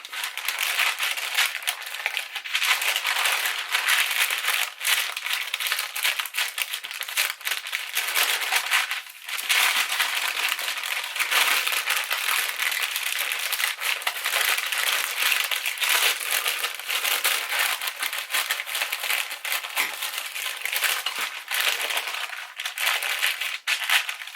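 Parchment paper crinkles and crackles steadily as a bourbon fruit roll is pressed and compacted inside it by hand, a close, continuous rustling with no talk.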